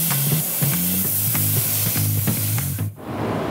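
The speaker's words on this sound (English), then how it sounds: "He's actually spraying a water-based adhesive." A close, continuous hiss of a spray gun applying water-based adhesive to cabinet doors in a factory, over a pulsing mechanical hum, with a brief break near the end.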